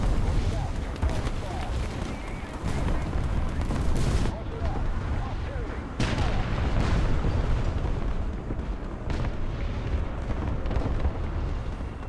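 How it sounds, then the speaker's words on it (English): During a War Thunder tank battle in a T-34 (1940), artillery shells and bombs land nearby, heavy booming blasts repeating over a constant low rumble of engine and battle noise. "Oh, I hear a bomb."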